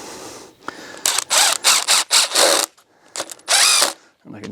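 A power driver whirs in short, repeated bursts as a screw is driven into timber for a lean-to shed, several loud spurts separated by brief pauses.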